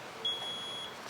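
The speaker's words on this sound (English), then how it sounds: "Now, that second beep, beep says it's okay to use, but the shears are still closed." Short power-on beep from Cekegon electric pruning shears, a single thin electronic tone held for about half a second, faint and alone against a soft background hiss.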